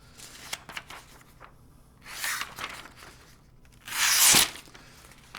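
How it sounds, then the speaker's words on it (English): Budget sword slicing through a sheet of paper: two quick rustling, tearing swishes, the second louder and longer, between quieter handling noises. "it slices through the paper no problem at all"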